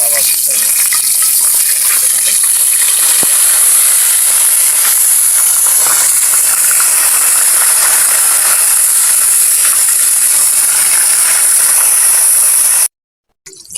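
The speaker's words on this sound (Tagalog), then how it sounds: "Prituin muna natin yung ating isda." Bulot fish frying in oil for a Filipino corn and crab soup, a loud continuous hiss and crackle of hot oil that stays steady before cutting off abruptly near the end.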